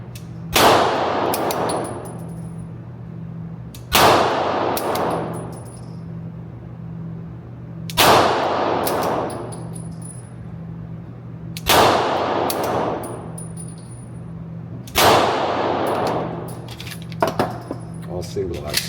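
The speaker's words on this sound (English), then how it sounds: "We'll shoot them all double action this time." Beretta 92 pistol with a Wilson action kit fired double action, five sharp loud shots spaced a few seconds apart, each ringing out with a metallic tail over a steady low hum.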